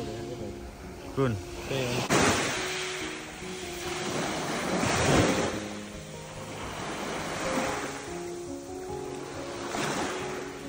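Mediterranean waves surge and break below the coastal hiking trail from Monterosso to Vernazza in Italy's Cinque Terre, in several slow, rolling swells under steady wind noise.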